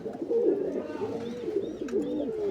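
A black female pigeon coos softly nearby in repeated low, wavering phrases, with faint higher chirps in the background.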